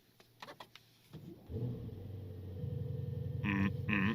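A 2024 Mercedes S930 Brabus with a 930 hp V8 starts up: a few clicks, then the engine cranks and catches into a steady, fairly quiet idle with two brief higher-pitched tones near the end.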